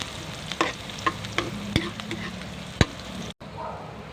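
Chopped onion added after garlic to a hot pan for garlic shrimp, sizzling and frying steadily while a spoon scrapes and stirs in sharp knocks, close up.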